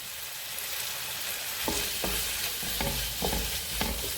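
Chicken fried rice with chili sauce and soy sauce is tossed in a hot pan, giving a soft steady sizzle punctuated by several distinct scraping stirs about every half second, with no one talking.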